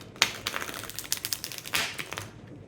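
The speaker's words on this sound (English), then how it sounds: "I'm going to shuffle it like that in order to get reverse cards" Deck of tarot cards shuffled by hand up close, a quiet run of quick papery taps and riffling flicks in an irregular rhythm, with no talking.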